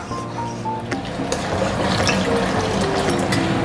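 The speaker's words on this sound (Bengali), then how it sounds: "এই যে এবার আমি এর মধ্যে জল দিয়ে দেবো।" Water being poured into a creamy, oil-releasing gravy in a pan for a malai egg kofta curry. A steady, loud pour bubbles and splashes without letup and grows fuller as it continues.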